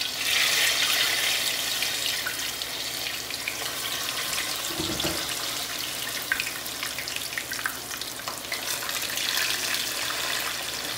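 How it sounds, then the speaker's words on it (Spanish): Plantains frying in hot oil give a steady, close hiss with bright crackle and scattered pops that holds for the whole stretch, with no voice. "vamos a ir agregando los plátanos al aceite para que se frían"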